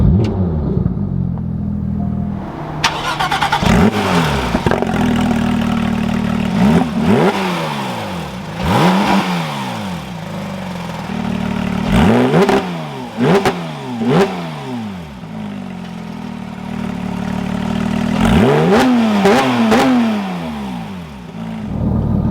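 A 991.2 Porsche 911 GT3 engine fires up and then revs repeatedly, each loud exhaust rise and fall standing out over a steady idle, close and with no talk.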